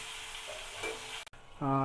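Vegetables frying with salt and turmeric give off a steady close sizzle that breaks off abruptly near the middle. A brief tonal hum follows at the end.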